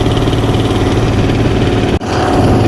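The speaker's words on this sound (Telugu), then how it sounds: "బోటు చాలా కష్టంగా వెళ్తుంది" Boat engine labouring against an oncoming river current near Yangon, a steady loud close-up drone with a brief dropout near the end before the motor roars on.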